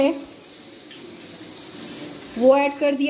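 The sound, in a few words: water poured into pressure cooker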